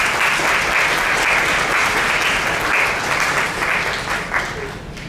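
An audience applauds at a talk on Peruvian history and art, with sustained, even clapping from a roomful of people that tapers slightly toward the end.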